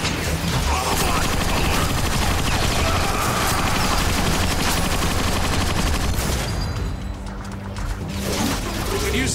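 Rapid gunfire rattles through a firefight in Transformers: Fall of Cybertron, dense overlapping bursts and blasts sounding loud and close, easing slightly near the end.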